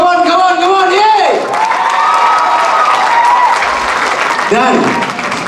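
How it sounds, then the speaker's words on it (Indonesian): Loud audience applause and cheering at a concert, a dense crowd roar heard together with an excited voice calling out over it, with falling whoops and shouts rising above the clapping. "saya nak tepukan paling gemuruh untuk 48"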